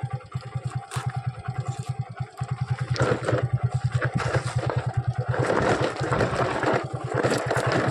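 A motorcycle engine labours on a steep road through tea gardens near Jayanti Hill, its rapid thumping exhaust pulses close and loud, rising into a rougher, revving roar toward the end.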